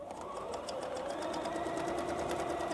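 Sewing machine stitching through fabric on a tie knot: a fast, even run of rapid needle clicks over a steady motor whine, close and continuous, with no voices.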